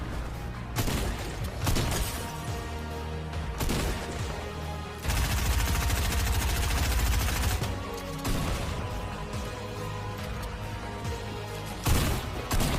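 Bursts of rapid gunfire and crashing impacts from Fortnite, loud and chaotic, with sustained volleys and shattering sounds throughout.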